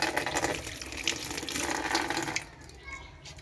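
Red guava fruits are washed under running water, with a close splashing tap stream and rubbing for a few seconds before it quiets, while a person speaks over the water.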